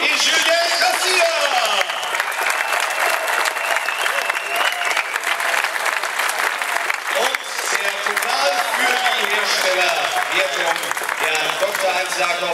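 Crowd applause for the winning team at the ADAC Rally Deutschland WRC 2015 podium ceremony, steady dense clapping sustained throughout, loud and close, with speech over a public address system partly audible beneath it.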